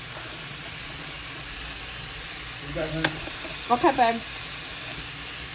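Squash and sausage stir fry sizzles in a pan with a steady, even hiss, and a voice speaks briefly partway through over the frying.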